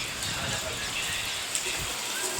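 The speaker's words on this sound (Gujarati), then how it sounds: "અત્યારે ધીમો ધીમો વરસાદ ચાલુ છે" Light rain falls outdoors under a heavily overcast sky, making a soft, even patter and hiss that continues without pause.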